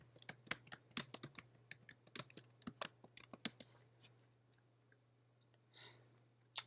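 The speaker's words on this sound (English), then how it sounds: "Now we're going to type in all caps" Someone types on a computer keyboard in a quiet room, with rapid irregular key clicks close by that thin out into a few scattered taps and then pause, over a low steady hum and with no talking.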